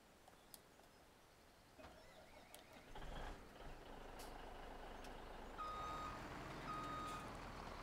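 A truck in Farming Simulator 17 on the Wonewoc WI map reverses with a steady run of beeps over its low engine rumble, which grows louder partway through. Nobody speaks.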